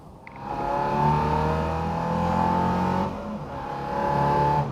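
A Ford Mk2 Escort accelerates nearby, its mid-pitched engine droning steadily upward through the revs, with a short dip in the middle before pulling again.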